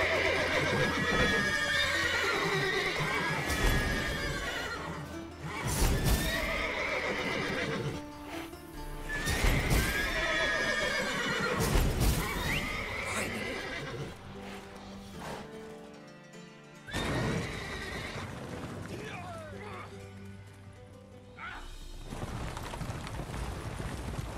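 Horses in the video game DeadLock neigh loudly again and again, shrill whinnies rising and falling over a steady clatter of hooves.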